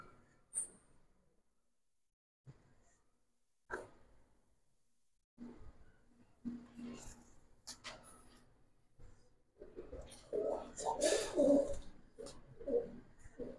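A Giribaz pigeon coos softly and repeatedly at close range, low throaty calls mixed with faint rustling and brief clicks, growing busier toward the end.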